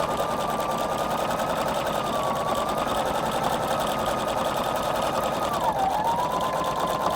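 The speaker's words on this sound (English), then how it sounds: "I just keep sewing and sewing and sewing until I get to where I want the taper to end." A Husqvarna Viking Designer Brilliance 80 sewing machine runs steadily while stitching a decorative taper, a close, continuous whirring hum with a fast needle rhythm, its pitch dipping briefly near the end.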